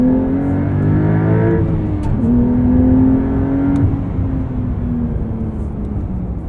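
A 2023 Porsche 911 Carrera T with a manual gearbox accelerates hard, its engine note rising steadily through the revs as a loud, continuous drone heard from inside the car, with no talking.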